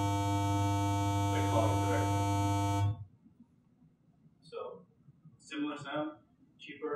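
A buzzy, harmonically rich synthesizer tone holds for about three seconds and cuts off abruptly, followed by quiet speech.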